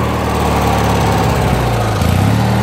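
A stock garden tractor fitted with a big twin-cylinder engine, snowblower and quad tires runs close and loud, a steady throbbing idle with slight rev changes toward the end.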